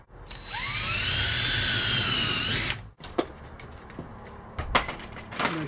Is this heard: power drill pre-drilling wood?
yes